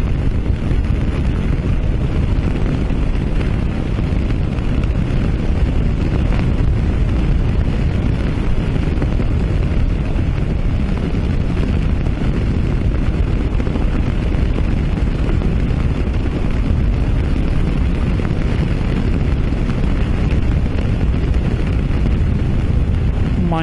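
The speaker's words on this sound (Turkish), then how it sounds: "Manyak rüzgar var ya." Strong wind roars steadily and loudly across the microphone while riding a Mondial RX3i Evo motorcycle on the open road between Fethiye and Dalaman, a dense, buffeting rumble that persists unbroken throughout with no voices.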